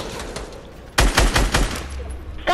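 Rapid burst of Fortnite gunfire erupts close and loud after a quiet stretch, a cluster of sharp shots over about a second, then a single shot returns near the end.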